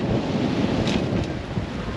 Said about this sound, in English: The waves have really built up now, so full on.